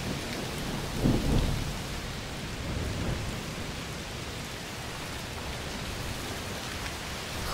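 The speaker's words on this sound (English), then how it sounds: "Must be a heat storm." Heavy rain pours steadily in a medieval-era adventure game, with a rolling thunder rumble swelling near the start before the downpour continues as a dense, even hiss with no talk.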